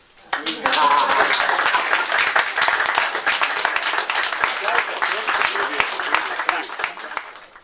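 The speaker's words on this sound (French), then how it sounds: "On applaudit." Audience applause at a French political conference session on Podemos and its programme, starting abruptly and continuing as dense, steady clapping from a crowd, with some voices mixed in beneath it.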